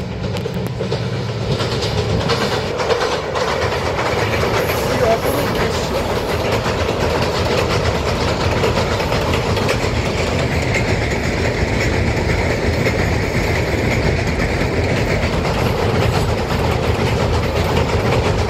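The Dolonchapa Express crossing a bridge, rumbling loud and continuously for the whole stretch with a rhythmic clickety-clack of wheels over rail joints.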